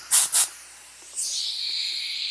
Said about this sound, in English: I decided to try some compressed air. So I have a compressor that I just got